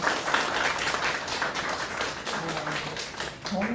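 An audience at a graduation ceremony for training program graduates claps steadily throughout, a dense, even patter of many hands filling the room at moderate loudness, with faint voices mixed in toward the end.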